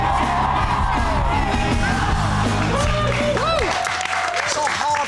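A live audience at a stand-up comedy show claps and whoops loudly throughout, a dense wash of applause mixed with yells and cheers from the crowd, with music or voices underneath.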